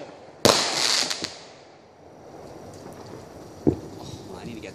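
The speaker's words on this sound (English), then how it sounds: "this is my favorite firework" Fourth of July fireworks in Orlando launching skyward: two sharp, loud bursts with a crackling tail, the first near the start and another about three seconds later, over steady outdoor crowd murmur.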